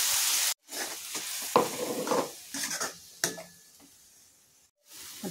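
Onion-tomato paste and gravy for paneer ball curry fry in a pan, close sizzling broken by scraping stirs and spoon clinks against the pan, with brief pauses and no talking.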